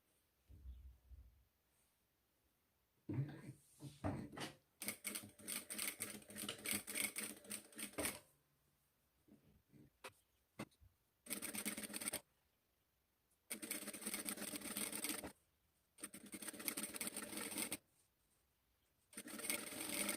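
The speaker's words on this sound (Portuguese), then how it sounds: "Uma costura bem na beiradinha, bem retinha, pra ficar bem bonitinho aí o acabamento da sua fraldinha" Sewing machine stitching a straight seam close to the edge of a cloth diaper's lace-trimmed hem, running in several loud bursts of rapid, steady stitching separated by short quiet pauses.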